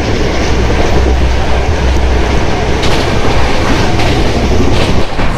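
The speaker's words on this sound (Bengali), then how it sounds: "খড়গপুর স্টেশন ছাড়ার পরে ট্রেনের স্পিড কিন্তু মারাত্মক 130-এর গায়ে ছুঁয়েছে" An express train between Howrah and Puri, past Kharagpur, runs near 130 km/h, with a loud, steady roar of wheels and rushing air heard close up from inside, plus faint rail clatter.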